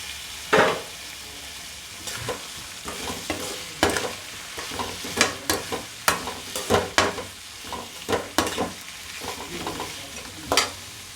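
Four chopped tomatoes sauté in a pan for mutton kulambu, giving a steady close sizzle broken by frequent scraping stir strokes and irregular crackling pops.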